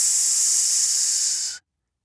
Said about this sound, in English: The sound was like a lizard, learning to speak the human tongue.